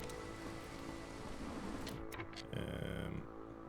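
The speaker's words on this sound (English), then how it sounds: "The storm has begun." Steady rain hiss from a storm in the strategy game Against the Storm, a broad continuous wash that swells slightly near the end, heard alone.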